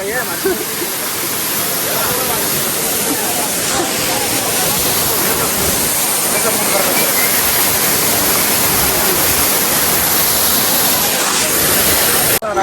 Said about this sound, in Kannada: ಈಗ ನೋಡ್ರಿ ಇಲ್ಲಿ ಯಾವ ಥರ ಫೋರ್ಸ್ ಬರೋದೈತಿ ನೀರು